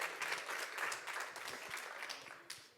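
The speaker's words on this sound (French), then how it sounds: "on peut les applaudir" Audience at a startup pitch event in Lyon claps for presenters leaving the stage, a dense, even round of applause that holds steady and tapers slightly toward the end, with no talk over it.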